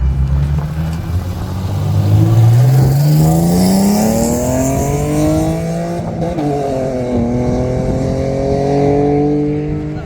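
A BMW E36 track and drift car, super-touring inspired, revs its engine close by, the pitch rising smoothly through a long pull, then easing and climbing again, loud with no talking.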